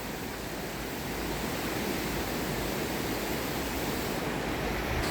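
Loud, steady roar of a strong river current near Saalbach and Zell am See, Austria, a dense continuous wash of noise with no breaks.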